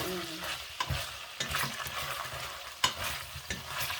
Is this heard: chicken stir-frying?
yes